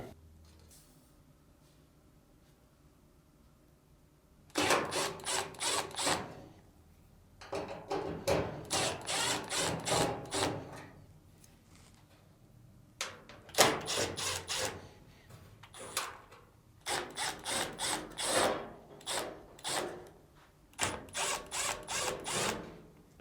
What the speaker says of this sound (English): Next, remove the screws on the upper frame plate.